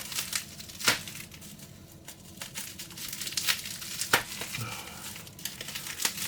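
A not-very-sharp knife saws and crinkles through a package's plastic wrapping, producing close, irregular crackling and tearing bursts with short pauses between strokes.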